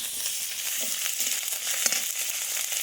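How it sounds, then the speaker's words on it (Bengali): A continuous, close sizzle of ginger paste frying with fried onions in a hot pan, with occasional soft stirring scrapes under the hiss. "রসুন বাটা জিরে বাটা দিয়ে ভালো করে ভেজে নিই"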